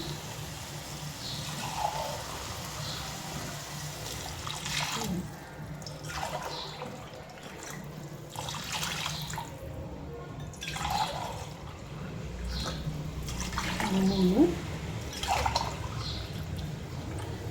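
Coconut milk poured over basmati rice for ghee rice: faint, soft liquid splashing and dripping runs quietly beneath low room noise, swelling slightly toward the end.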